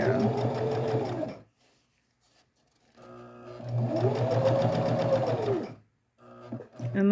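A sewing machine runs in two long bursts of steady stitching along a seam of a blue dress, with a quiet pause between and brief start-stop whirs at the end.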